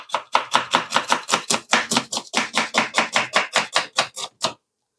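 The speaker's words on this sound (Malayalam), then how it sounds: "ഇതൊന്ന് നമുക്കൊന്ന് പൊടിയായിട്ടൊന്ന് അരിഞ്ഞെടുക്കാം." A knife chops an onion finely on a board in a steady rhythm of about twenty crisp, close strokes that stop abruptly near the end, with no talking.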